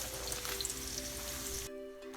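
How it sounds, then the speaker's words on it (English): Chopped onion fries with curry leaves in a pan for a Sri Lankan chicken curry, giving a steady close sizzle that cuts off abruptly near the end, leaving a faint hum. "And we're going to fry it for a couple of minutes."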